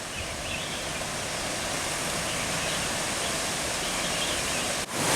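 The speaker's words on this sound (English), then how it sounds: "But I heard a lot of rushing water." Rushing water of a rain-swollen stream along a hillside walking trail, a steady broadband roar that stays loud and continuous throughout with no voices.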